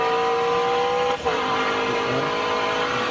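Race car engine in the AUTOGRID mobile racing game, droning steadily at high revs with a brief dip in the middle, loud and continuous with no talk.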